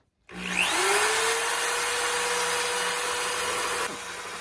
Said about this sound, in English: So we're drilling out the other side now.